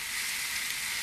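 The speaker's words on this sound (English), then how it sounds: "there's enough heat in the pan just to wilt those greens" Lettuce greens wilt in a hot pan on a stovetop, giving a loud, steady hiss and sizzle that fills the whole short moment, alone with no talking.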